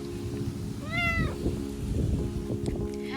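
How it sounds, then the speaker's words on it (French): A small cat outdoors on a walk lets out one clear, rising-and-falling meow close by, followed by a fainter short call, over a low steady hum and light wind. "Nous sommes suivis de près par le petit chat tout le long de notre balade"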